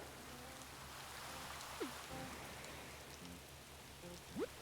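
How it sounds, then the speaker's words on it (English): Steady rain ambience in a room-decorating video game, a soft even patter of falling drops with a faint low rumble and occasional light chirps, continuous and moderately quiet without talk. "Now we've got rain ambient noise."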